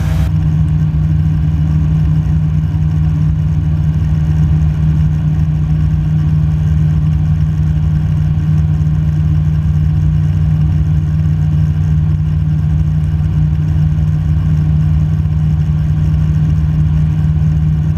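Light training airplane engine throttling up slightly in flight, a loud, steady droning hum with a strong low tone that holds constant throughout, no voices.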